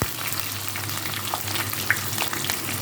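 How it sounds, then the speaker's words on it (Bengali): Onion and green chilies fry in a pan with a steady, close sizzle and crackle, soft stirring scrapes and a few brighter pops over a low background hum. "এগুলো একটু ভাজবো"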